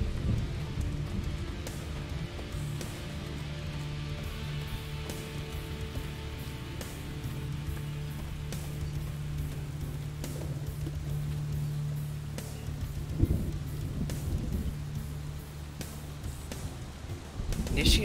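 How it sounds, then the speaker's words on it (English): Steady rain hisses throughout a video game scene, with a low rumble of thunder swelling near the middle, while faint clicks and soft tones sit under the constant downpour. "it rains so much in this area"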